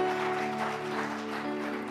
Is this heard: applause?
yes